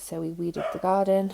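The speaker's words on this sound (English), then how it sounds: "Please excuse the dog there. She's heard something outside." A dog indoors barks and yips at something heard outside, with short, close barks mixed under someone talking over them.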